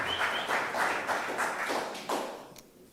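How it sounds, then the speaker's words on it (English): A conference crowd claps together in a steady burst of applause that tapers off toward the end, moderately distant. "can we have a round of applause for all the amazing humans that work to make this happen"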